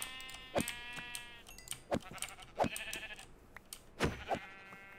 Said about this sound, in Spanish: aquí hay saco de ovejas, ¿eh? Hay que cogerlas todas